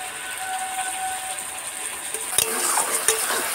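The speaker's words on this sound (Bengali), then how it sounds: "আবারও কিছুক্ষণ কষে নেব টমেটো জলটা শুকানো পর্যন্ত" Onion, ginger, garlic and tomato paste fry in a pan for chicken tikka masala, a steady close sizzle with a few spoon scrapes and clinks against the pan.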